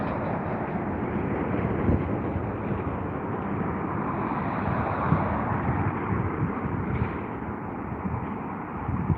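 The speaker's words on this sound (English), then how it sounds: "As we wait for this next arrival coming into London Heathrow right now." A jet airliner on approach to land at London Heathrow, a steady broadband rumble holding at constant moderate loudness throughout, with no voices.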